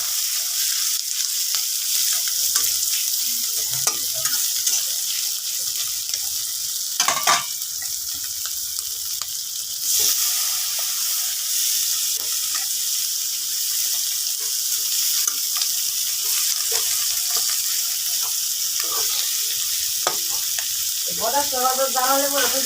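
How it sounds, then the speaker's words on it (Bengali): Small fish frying in hot oil in a pan, giving a steady loud sizzle throughout, with occasional utensil clatter and a brief burst of stirring or scraping near the end. "তেল গরম হয়ে গেছে, মাছগুলো দিয়ে দিলাম।"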